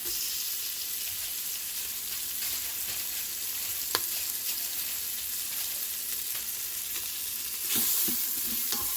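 Green chilies, ginger garlic paste and onions sizzle and crackle steadily in an Instant Pot while being stirred, with a soft scrape and a slight rise in sizzle near the end; no voices.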